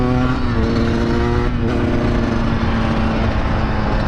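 A two-stroke motorcycle engine holds a loud, sustained high-pitched drone with a steady tone through a wheelie, close and continuous with no voices over it.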